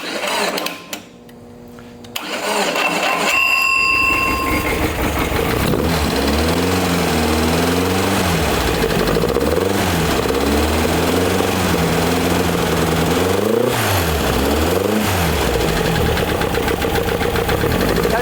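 A rough, steady 2332cc EMPI air-cooled VW engine idles loudly up close after a brief sputter, its rhythm wavering slightly as it runs on without talk.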